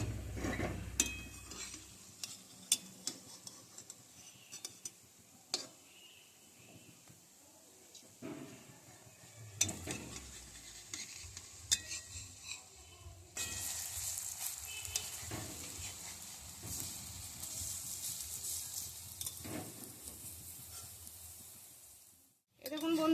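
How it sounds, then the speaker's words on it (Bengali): Flat beans (shim) fry in oil in a pan, giving a steady sizzle broken by scraping and clinking as the pieces are stirred and turned over, and a voice talks over the cooking. "এবার আমি উল্টাবো একদিকটা ভাজা হয়ে গেছে দেখুন"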